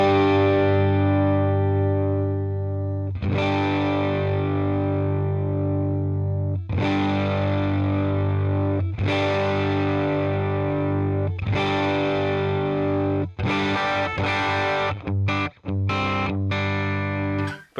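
Electric guitar through a cranked Fender Deluxe Reverb amp model on the normal channel; big distorted chords struck and left ringing every few seconds, then quicker choppy strums toward the end, loud and alone.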